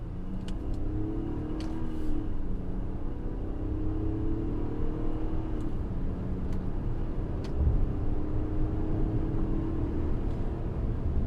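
Infiniti QX60 with a naturally aspirated V6 pulling away from a stop into traffic, heard from inside the cabin as a steady low engine and road rumble that gradually builds, with faint ticking clicks above it.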